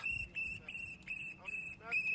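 Protest whistles blown by an ICE watch group at a demonstration in Minneapolis, a series of short shrill blasts in an uneven rhythm, moderately distant, with faint voices in the background.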